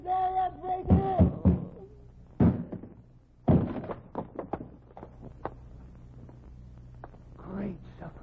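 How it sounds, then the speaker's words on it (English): A door is broken in for an old mystery radio drama, with heavy thunks and knocks in scattered bursts, a loud slam-like impact midway, followed by lighter clattering knocks, heard alongside voices. "Open the door and break in."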